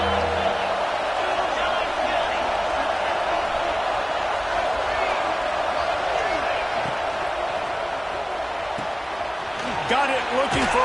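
Loud, dense roar of a college football stadium crowd, steady and sustained throughout, with commentators talking over it and sharper bursts near the end.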